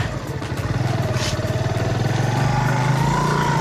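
A motorcycle engine idles and revs close by with a steady throbbing rumble as bikes are loaded for transport at the Lowari Tunnel.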